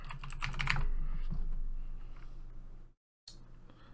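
Typing on a computer keyboard while coding a Super Mario 64-style prototype in Godot, a flurry of close key clicks that thins out, stops briefly in silence, then resumes faintly.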